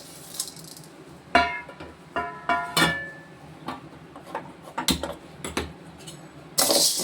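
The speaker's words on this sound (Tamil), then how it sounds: "இப்போ நம்ம தட்டாம்பயிரை போட்டு வறுக்க போகிறோம்" Dry cowpeas rattle and clatter against an old pan as they are roasted and stirred, giving irregular clicks and scraping bursts at close range, with a louder rattling swish near the end.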